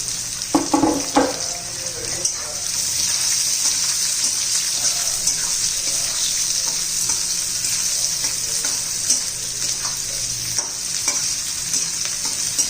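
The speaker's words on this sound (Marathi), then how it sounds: "छान असा आपण कांदा परतून घेऊया" Onion sautés in a pan for a cluster bean vegetable dish, with a steady close sizzle and some stirring knocks at the start.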